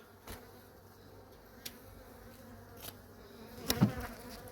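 Honeybees droning faintly around an opened hive during late-season winter preparation, a low hum with a few sharper buzzes as individual bees pass close, quiet overall.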